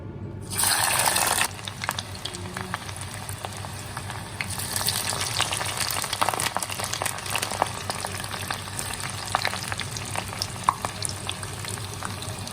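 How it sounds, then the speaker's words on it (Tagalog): French fries deep fry in hot oil, starting with a loud hissing burst as they drop in, then settling into a steady close bubbling sizzle that continues throughout. "Next na natin iprito ang ating french fries."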